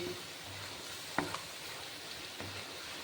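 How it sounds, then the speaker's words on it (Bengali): A banana flower curry with curd sautés gently in a pan over low heat, giving a soft, steady sizzle with a few light stirring taps and scrapes close by. "এভাবে কিছুক্ষণ হালকা হাতে কষিয়ে নেব"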